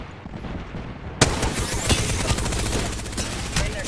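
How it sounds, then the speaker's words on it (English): Video game gunfire erupts abruptly after a quiet opening second and continues as dense, rapid bursts of overlapping shots, loud and sustained to the end. "I am taking fire, friends."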